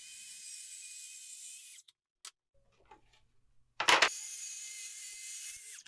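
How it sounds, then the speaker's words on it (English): A track saw cuts plywood into trapezoid pieces for a standing desk conversion, a loud high whining buzz that runs, stops abruptly, then restarts after a few quiet seconds of small handling knocks. "I'll use my track saw to cut the trapezoid back and base."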